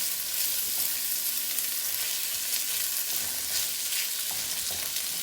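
Rice fries and sizzles in a pan for Mexican rice, a steady crackling hiss with faint stirring scrapes and no voices.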